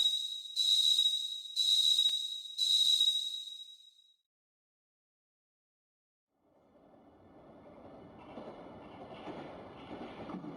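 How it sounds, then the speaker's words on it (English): Three bright, evenly spaced chime tones ring out in The Forest of Drizzling Rain, then after a few seconds of silence a soft, low train rumble fades in and gradually swells as it runs on. "I hear the sound of a train."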